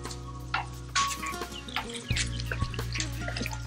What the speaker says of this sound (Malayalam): ഈ ടാപ്പിൽ നിന്ന് വെള്ളം വീഴുന്ന കണ്ടില്ലേ?